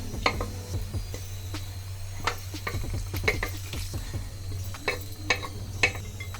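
Boiled goat intestines are stirred into a spice tempering in a pan, giving a steady low sizzle with scattered scraping and clinking stir strokes close by; no one speaks.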